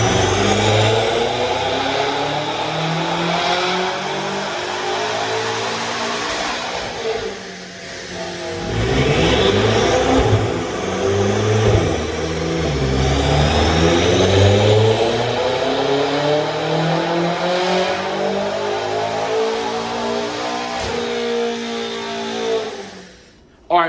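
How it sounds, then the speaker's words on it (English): A BMW F10 M5 fitted with high flow downpipes makes baseline pulls on a dyno, its engine note climbing loudly through the revs, dropping briefly, then sweeping up again in long sustained wide-open runs. "Behind me we have an F10 M5. We're gonna do some dyno hits on it as a baseline."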